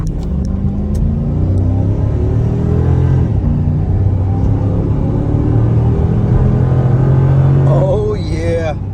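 A 2004 Ford Crown Victoria Police Interceptor with a V8 drives along, its engine a loud, steady low rumble that rises gradually in pitch as it accelerates, with a brief shift partway and a faint squeak near the end.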